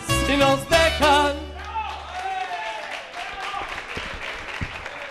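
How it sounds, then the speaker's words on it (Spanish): Audience applause and cheering follow a karaoke song performance, breaking out right as sustained singing ends, then continuing as a steady mid-level clatter of clapping with scattered crowd noise. "el aplauso para Dani"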